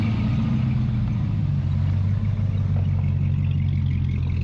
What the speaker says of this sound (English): V8 power. Listen to the rumble off that.